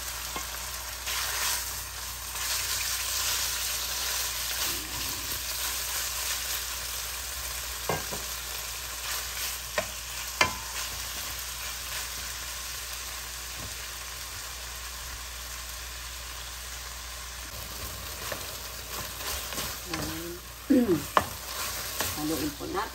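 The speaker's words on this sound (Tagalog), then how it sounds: "ilagay na po natin ang pork meat or butaniku" Pork meat sizzles and fries steadily in a pan for a sautéed dish with vegetables, with occasional scrapes and clacks as it gets stirred, closer and louder toward the end.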